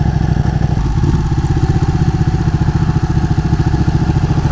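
A Ducati Panigale motorcycle engine runs loud and steady while riding, with a dense, rapid low pulsing throb and some mechanical clatter, close and continuous throughout.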